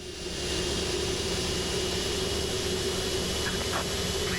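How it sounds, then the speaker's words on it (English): Airbus A330-200 jet engines running in Microsoft Flight Simulator 2024, a steady, close, even roar with a constant low drone and no voices. "Engine number 2 coming to life."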